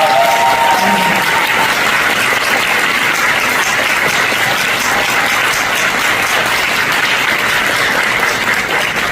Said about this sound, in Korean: 그래서 우리 청년들이 먼저 어르신들에게 참석해 감사의 것으로 박수 한번 주십시오